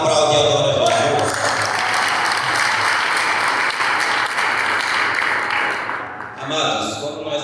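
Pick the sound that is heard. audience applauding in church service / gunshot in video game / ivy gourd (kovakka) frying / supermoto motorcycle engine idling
audience applauding in church service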